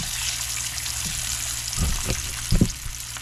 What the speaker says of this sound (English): The other skillet, I'm gonna cook the meat